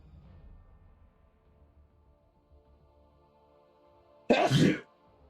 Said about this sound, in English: That would have been embarrassing if that sneeze never appeared.